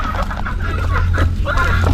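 Asil chickens cluck close by in a short burst of several overlapping calls, with a steady low hum running underneath.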